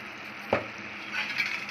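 Spices are stirred into a frying eggplant, potato and tomato curry in a pan, a steady close sizzle with a sharp scrape of the spoon and softer stirring swirls, no voices.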